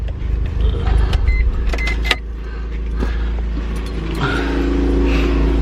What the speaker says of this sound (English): gonna go ahead and step in the FD, turn off the car first